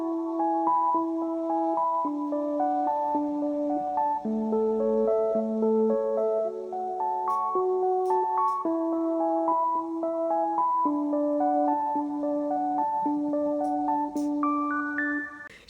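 A lofi arpeggiated melody with a soft, bell-like synth tone, its chord notes rolling steadily up and down, processed with EQ, RC20, compression and reverb; sustained, gentle and moderately quiet, with a few faint high clicks.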